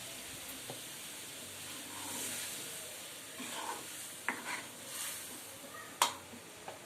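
Mixed vegetables for pav bhaji sizzling softly in a pan over low heat, with faint stirring scrapes and a few sharp clinks of a spoon against the pan.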